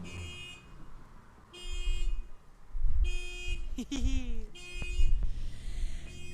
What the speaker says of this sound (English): We got our alarm clock going.